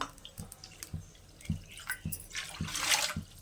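Water poured into a cup for gulab jamun sugar syrup, heard as a series of dripping, splashing pours with soft clinks, growing fuller and louder toward the end, close by with no talk.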